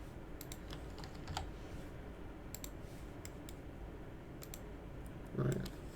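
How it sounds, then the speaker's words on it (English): Light, sparse clicks of a computer keyboard are being typed on, faint and scattered over a steady background hiss, with a brief low murmur near the end. "So hit M on the keyboard."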